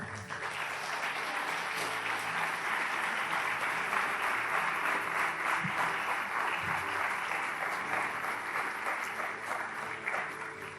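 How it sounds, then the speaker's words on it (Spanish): Sustained applause from a church congregation standing to praise during a Spanish-language worship service, a dense steady roar of many hands clapping for about ten seconds with no speech over it. "Dele fuerte el aplauso al Señor"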